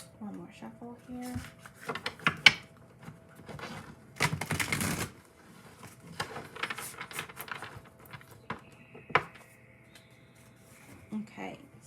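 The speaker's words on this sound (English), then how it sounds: "One more shuffle here." A deck of cards being shuffled during a tarot-style reading, heard as bursts of quick riffling patter and rubbing, loudest in a dense stretch midway, with quieter handling noises in between and no talking.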